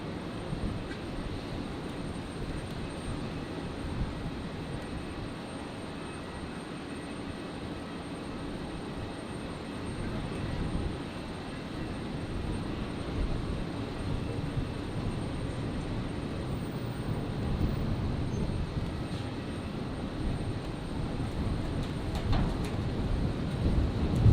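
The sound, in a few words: Virgin Australia Boeing 737 arriving on runway 01 right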